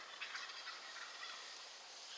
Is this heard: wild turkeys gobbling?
yes